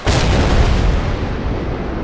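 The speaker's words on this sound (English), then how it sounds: "I am defending with this Gvozdik artillery piece" A Gvozdik artillery piece fires in the Battlefield Iraq video game. One loud, close, booming shot hits and then rolls on in a long, heavy rumbling decay.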